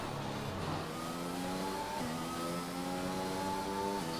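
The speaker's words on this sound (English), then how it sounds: "Cars across the line for the end of the race" Racing car engines in a racing video game at Monaco whine and shift as cars cross the finish line, several overlapping engine tones rising and dropping through gear changes, loud and continuous.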